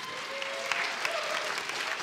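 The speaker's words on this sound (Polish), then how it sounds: "Brawa nie stygną" An audience at a 2022 local talent show in Mysłowice claps to welcome a juror, dense, steady applause from a crowd for the whole moment, with faint murmuring underneath.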